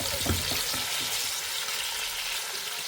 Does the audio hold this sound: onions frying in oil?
yes